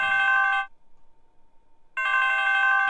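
A ringing tone in the horror game Home Safety Hotline: Seasonal Worker, with two loud bursts of bright, repeated electronic ringing separated by about a second of near silence.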